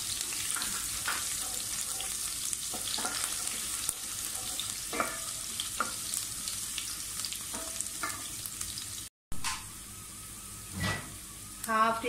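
Steady sizzle of garlic and ginger frying in oil with occasional stirring scrapes, close and continuous, with a brief gap and a few clinks.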